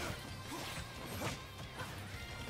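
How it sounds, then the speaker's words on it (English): Simon's whip attacks in Super Smash Bros. Ultimate, a dense run of sharp cracks and smashing hits layered over loud, busy game noise. "hearing these whips actually demoralizes me"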